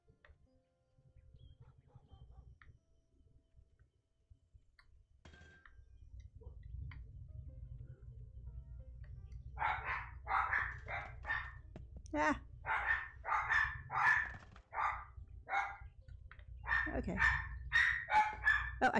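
Dogs bark in rapid, excited bursts as a motorcycle rumbles low underneath, the engine noise rising before the barking starts and continuing beneath it, with a brief voice heard.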